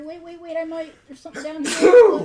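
A single sharp sneeze bursts out close to the microphone right after a few spoken words, loud and brief with a breathy tail.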